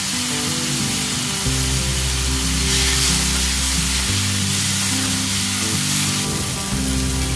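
Tomato and dried prawns fry in a pan for egg bhurji, giving a steady, fairly loud sizzle that runs unbroken throughout, with a low sustained tonal hum beneath it.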